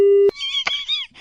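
A telephone line gives a single short, steady tone the moment a call is cut, followed by voice-like warbling sounds.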